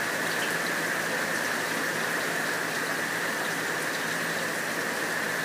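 Rain falls outdoors in a steady, even hiss that stays constant throughout, with no voices heard.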